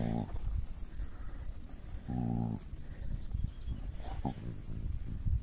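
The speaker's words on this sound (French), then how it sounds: "Il est fou ce chien. Pourquoi tu fais le cochon?" A dog grunting and snorting like a pig outdoors by a lake, a series of low, rough, piggy grunts in short bursts, fairly close amid soft background noise.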